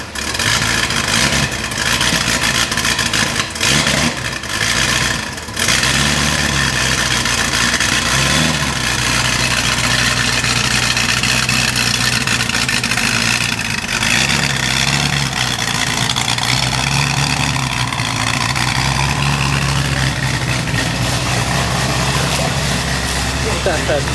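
A handbuilt 1966 Ford GT40 engine running loud and close, a rough, burbling idle with occasional revs, heard continuously throughout.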